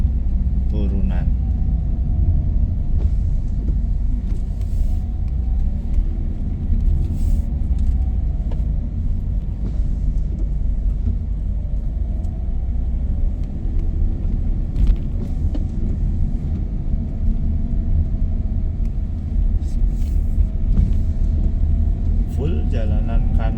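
Car descending a winding mountain road near Bedugul, with a continuous low engine and road rumble from inside the cabin and a voice talking over it throughout.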